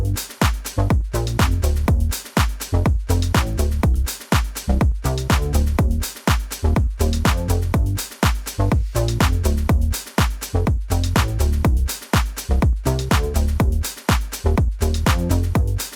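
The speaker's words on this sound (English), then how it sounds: "So I've got a little house track going, nothing too crazy" A house track with a steady four-on-the-floor kick pulses loudly and evenly throughout, layered with bright synth and percussion hits and no voices.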